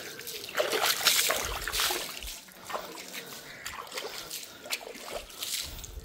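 Water overflows and spills out near Alasteen Rock in Mullaitivu, making irregular trickles and splashes at close range with bursts of louder splattering. A voice speaks faintly underneath.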